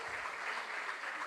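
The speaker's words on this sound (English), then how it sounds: "Can we give him a round of applause?" Audience at a regional junior science and maths school quiz applauding, a steady, soft wash of many hands clapping with no voices over it, heard from some distance.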